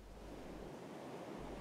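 Broadband seaside wash of sea breeze and rolling waves, steady and fairly faint, with no voices, a soft continuous roar that dips slightly in its low rumble midway.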